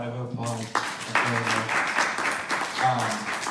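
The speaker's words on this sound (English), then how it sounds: "everybody give her a round of applause" An audience at a speaking event breaks into applause, a dense clapping wash that swells in after a voice and keeps going while someone continues talking over it.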